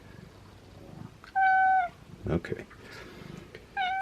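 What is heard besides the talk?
cat meowing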